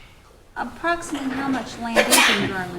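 One person sneezes during a committee meeting, a sharp burst cutting through a speaker's ongoing question in an indoor room.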